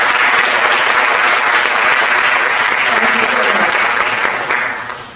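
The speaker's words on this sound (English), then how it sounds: "let's give her a big round of applause." Audience applause at an arangetram dance recital, a dense steady wash of clapping from a large crowd, loud and sustained before fading slightly at the end.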